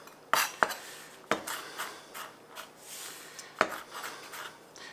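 A root being chopped on a board for fire cider, sharp knife strikes landing irregularly, a few distinct close taps with scraping and rubbing between them, no voices.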